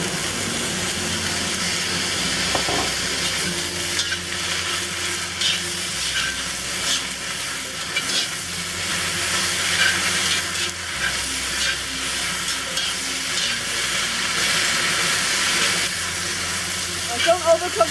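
Tagu choy stir-frying with garlic, seasoning salt, sesame oil and Shaoxing wine in a hot pan, giving a steady sizzle and hiss of steam with occasional stirring scrapes, close and continuous, with a voice speaking now and then over it.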